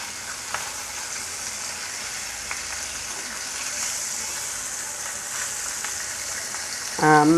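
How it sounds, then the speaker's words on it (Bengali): Fish heads sizzle in hot oil in a pan, a constant bright crackling fry with faint stirring taps, and a brief voice cuts in at the very end. "মাছটা ভেজে নিয়ে ফিরে আসছি।"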